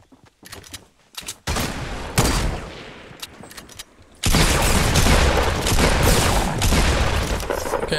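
Crossbow shots in the video game Fortnite: several sharp, separate bursts, then a loud, dense stretch of continuous firing and impacts over the last half.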